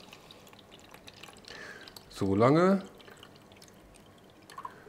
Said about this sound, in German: So, das gießen wir jetzt mal rein hier.